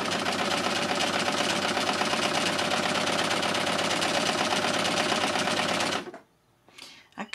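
A Success LUCIE overlocker runs a hem stitch, a loud, close, rapid mechanical chatter held steadily for about six seconds before stopping, followed by faint handling noises.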